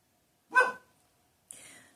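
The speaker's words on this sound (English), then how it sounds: "Hear that dog bark?" A dog barks once sharply, then a second, shorter bark follows about a second later, with quiet in between.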